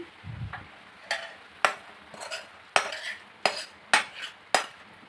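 Spice mix being stirred into a pot of khichuri with masoor dal and Malabar spinach, with a run of sharp metallic spoon taps and scrapes against the pot at a steady beat, close and clear with no voices.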